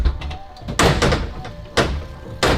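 Door handling on a Rimac Nevera electric hypercar: several solid thunks and thuds spaced about a second apart, close and moderately loud, over a low rumble.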